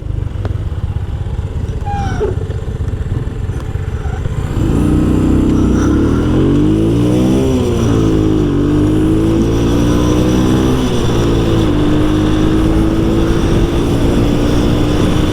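A Kanuni Cup 100 motorcycle idles with a low rumble, then its engine revs up for a standing-start race, pitch climbing and dipping through gear changes before holding a steady high drone, loud and close throughout.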